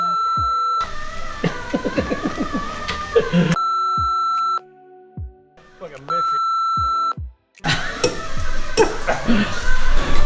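Censor beeps during a widebody kit build on a Z32, long loud steady tones cutting across chopped speech, with brief quiet gaps between.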